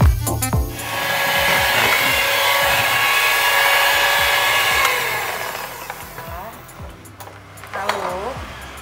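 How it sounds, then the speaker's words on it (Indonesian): An electric hand mixer blends a fish dough mixture in a home kitchen. A steady, close motor whir runs for several seconds and then winds down, while a voice talks over it. "kita mixer lagi. Sini mixer."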